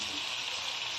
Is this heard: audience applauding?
no